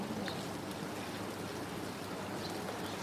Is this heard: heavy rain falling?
yes